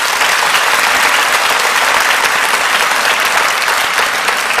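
Congregation in a Korean church service applauding warmly to bless a married couple who stand up, a dense, loud and steady wash of many hands clapping throughout, with no talking.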